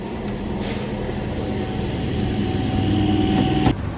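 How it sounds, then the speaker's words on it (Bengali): A train pulls into a station with a steady low rumble and rolling wheel noise that builds toward the end, capped by a sharp hiss like an air brake release. "এই মুহূর্তে ট্রেন ঢুকে"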